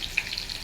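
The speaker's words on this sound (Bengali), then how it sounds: "এবার আমি 1খানা ছোট পেঁয়াজ কুচিয়ে রেখেছি, ওইটাকে দেব। হাফ ভাজা করব" Chopped small onion half-frying in hot oil, a steady low sizzle with brief crackling pops spread across a short, quiet stretch.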